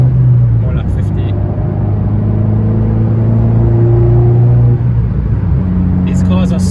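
An Abarth 595 Turismo engine accelerates in third gear, a steady loud rumble with a rising engine note heard from inside the car, with a voice speaking over it.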